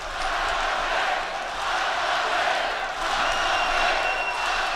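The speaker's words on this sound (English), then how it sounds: "Crowd chanting Adamek." A boxing arena crowd at the 2011 Tomasz Adamek vs Kevin McBride fight roars in a steady, dense wash of voices, chanting and cheering loudly without pause throughout.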